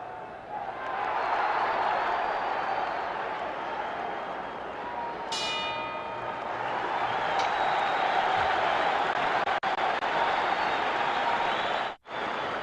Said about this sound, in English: you can hear that tremendous roar in the background